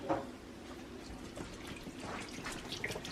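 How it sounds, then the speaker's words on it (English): Water runs steadily into a cooking pot holding chicken for homemade chicken and noodles, a soft trickling and splashing pour heard faintly and close. "And then we put enough water"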